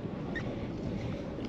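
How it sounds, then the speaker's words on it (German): Boat engines idle after a weeks-long pause, a steady low rumble mixed with wind and outdoor noise around the moored vessel, continuous and fairly faint, with no voices. "Nach Wochen Pause sind auch die Motoren angesprungen."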